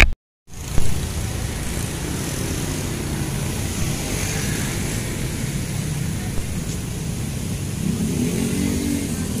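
Big motorcycles idling and revving at Las Brisas in Antipolo, a steady loud engine rumble close by with a swell of revving near the end, no talk.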